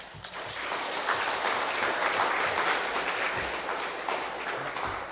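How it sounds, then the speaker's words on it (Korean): A church congregation at Sunday worship claps to welcome a missionary, a dense and even roar of applause that holds steady throughout. "앞으로 나오실 때 뜨거운 박수로 환영해 주시기를 바랍니다."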